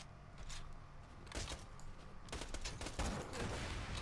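Bursts of gunfire from Borderlands 2, a rapid fusillade of shots in uneven clusters over about four seconds, loud and close in a busy game battle.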